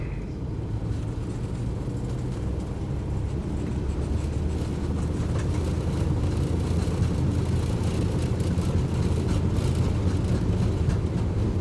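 Airplane engines in a flight simulator run at full power on the takeoff roll, a steady loud droning roar that holds and builds slightly with faint rattling over it, no voices.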